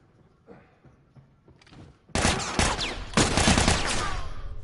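Sustained gunfire in The Last of Us video game: a loud, dense burst of rapid shots erupts about two seconds in and keeps firing to the end, after a stretch of quieter game sounds.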